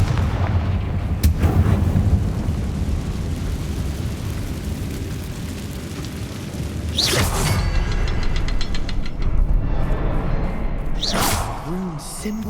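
Confringo fire spell blasts in Hogwarts Legacy, two loud whooshing bursts a few seconds apart over a steady rumbling game ambience.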